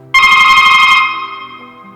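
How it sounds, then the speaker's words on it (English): A phone intercom system rings for a call from the front entrance: one loud, steady electronic ring tone that pulses briefly, then stops and fades away, with no voices. "This is your phone intercom system. Once you are called from the front entrance,"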